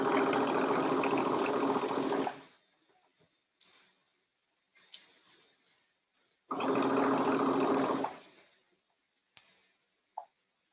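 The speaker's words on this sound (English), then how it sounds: "So I can stitch right over those plastic teeth and my needle will be able to handle it." A domestic sewing machine runs in two steady bursts of about two seconds each, stitching a pant side seam over plastic zipper tape and teeth, with small clicks and handling noises in the quiet pauses between runs.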